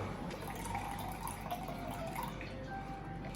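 Water poured into a cooking vessel while preparing a sweet Indian dessert, a faint, steady, continuous splash and trickle in a home kitchen with no talking.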